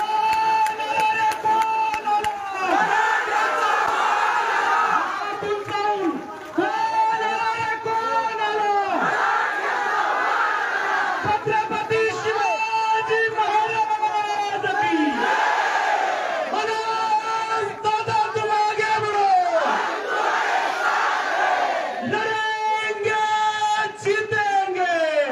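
A large crowd at a Maratha community rally chants slogans in unison, loud and close, in repeated rhythmic call-and-response bursts with a leader's amplified voice between chants.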